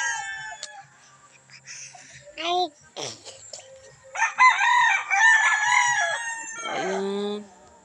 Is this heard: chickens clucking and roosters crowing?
yes